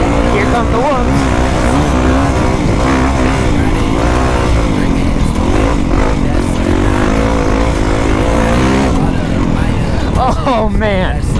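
A Honda CR250R two-stroke dirt bike ridden hard on sand dunes, its engine loud, close and continuous, revving and wavering in pitch with sharp throttle rises near the start and end.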